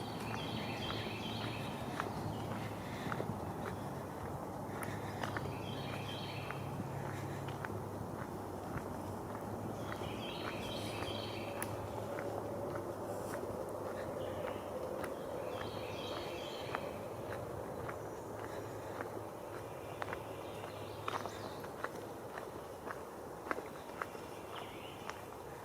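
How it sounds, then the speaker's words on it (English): Wrens calling in the woods on a hike at Cove Lake State Park, Tennessee: short bursts of bright, trilling song come back every few seconds over the steady crunch of footsteps on the trail. "I hear some wrens out there."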